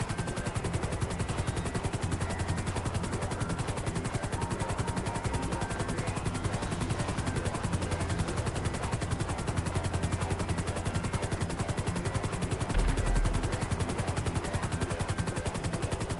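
A helicopter in Grand Theft Auto Online roars steadily with a dense, continuous rotor thrum, loud and unbroken throughout.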